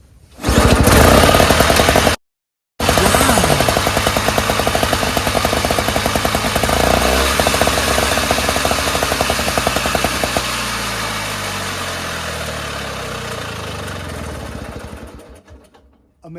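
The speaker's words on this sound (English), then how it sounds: "Just gonna pull it without even priming, just to see if it fires up." A gas single-stage snowblower engine is pull-started without priming and catches on the first pull on choke, then runs in a loud, close, rattling idle that briefly cuts out, picks up again and slowly settles before shutting off.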